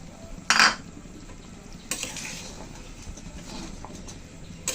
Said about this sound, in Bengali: হালকা একটু নেড়ে ছেড়ে মিশিয়ে দিলাম।